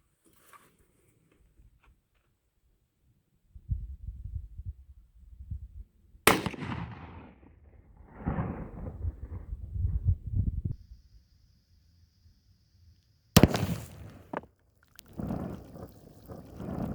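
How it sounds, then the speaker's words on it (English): A few sharp rifle shots at an outdoor range, firing a Winchester Super X lead-core bullet, each a sudden loud crack followed by a short rumbling decay, spaced seconds apart with quiet gaps between. "First up, we're going to be shooting this Winchester Super X lead core bullet."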